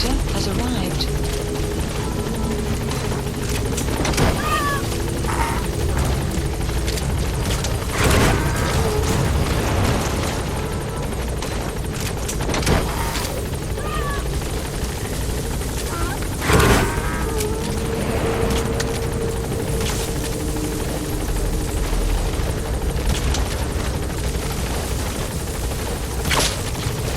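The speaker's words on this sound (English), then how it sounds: "Support helicopter has arrived." A support helicopter arrives at a landing zone in the video game Metal Gear Solid V: The Phantom Pain. Its rotors thrum loudly and continuously, with occasional booming impacts and bursts of gunfire layered over them.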